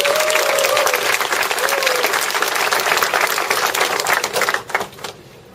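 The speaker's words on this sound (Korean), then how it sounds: "그게 또 박수입니다" Loud, dense audience applause at a Korean business lecture, sustained clapping for several seconds before tapering off and dying away near the end.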